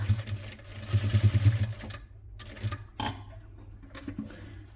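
A sewing machine stitching the folded edge of a homemade bag handle runs in a rapid, loud whirring burst for about two seconds. Quieter handling knocks and a short second whir follow.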